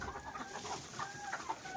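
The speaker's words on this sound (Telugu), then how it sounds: "ఇవాళ మాకు కడక్నాథ్ కోళ్ళ ఎన్ని ఉన్నాయి" Kadaknath chickens on a country chicken farm cluck softly in short repeated calls, faint and close together with no voices over them.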